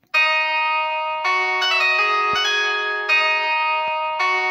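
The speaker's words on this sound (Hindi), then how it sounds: "जो आपकी रिवर्ब लगाने से आवाज़ आती है जैसे हॉल की आवाज़ होती है" A vocal in FL Studio Mobile with a hall-like reverb effect, a loud sustained bell-like ringing tone that shifts pitch a few times and washes together with long echoing tails, no speech.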